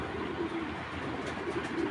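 A large foreign racing pigeon, a white racer, cooing in a low, rolling, repeated burble that holds steady and close throughout.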